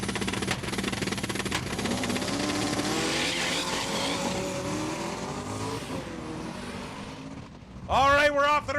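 A 1969 Dodge Swinger and a 1991 Pontiac Trans Am launch side by side at a drag strip. The engines roar loudly and steadily for several seconds, with a sharp tire-squeal burst near the end and a commentator talking over it.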